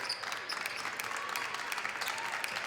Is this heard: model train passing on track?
no